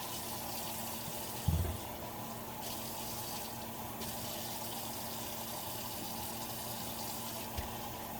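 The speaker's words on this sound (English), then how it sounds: "I'm gonna wash the jar." Water from a kitchen tap runs steadily into a sink as a glass jar that held bacon grease gets rinsed, a brief clunk early on and a small knock near the end.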